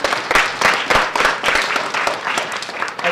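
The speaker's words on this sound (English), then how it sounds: "Big round of applause for Boston." Children in a Boston school gathering clap together in a sustained burst of applause, a dense crackle of many small hands lasting the whole few seconds at fairly close range.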